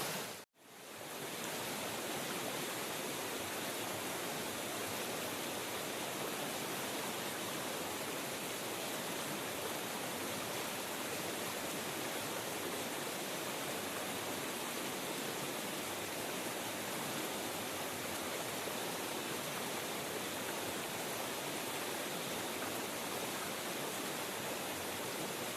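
A waterfall and cascading stream in the Cataloochee area pour steadily, a dense, even rush of water close by that fills the scene without a break, and no voices are heard.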